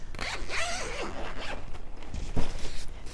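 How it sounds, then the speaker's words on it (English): A zipper runs along the lid pocket of a sewing bag, giving a close, scratchy zip that rasps steadily for about three seconds with a sharper pull near the end, no voices over it. "there's even a zip pocket at the top of the bag in the lid"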